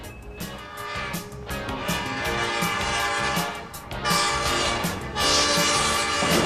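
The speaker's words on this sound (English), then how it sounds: "There goes the train." Train horn sounds over a loud, steady rumble of a passing train, with dense mechanical noise and the horn swelling in separate blasts toward the end.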